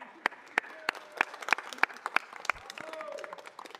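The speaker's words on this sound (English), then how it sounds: "If you please join me in giving them a round of applause." Scattered applause at a city council meeting celebrating a family centers organization, with a few distinct sharp claps standing out over a thin patter of clapping, fairly faint and slightly distant.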